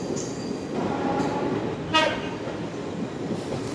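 The Malabar Express rumbles into a station in Kerala, a steady rolling train noise with a short sharp horn toot midway, fairly close and loud, no talking.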